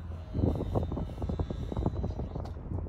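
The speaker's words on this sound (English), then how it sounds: "Oh, that might be the prop." A test model airplane's propeller whirs steadily at close range with a pulsing, slightly uneven drone and no talk over it.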